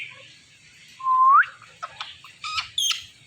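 A ringneck parrot at night gives a rising whistled call, then a series of short harsh squawks and chirps, close and clear against a quiet background.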